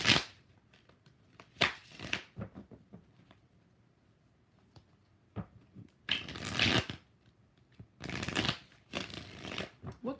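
Tarot cards are shuffled in several quick riffling bursts, crisp and close, separated by quiet pauses with faint handling sounds.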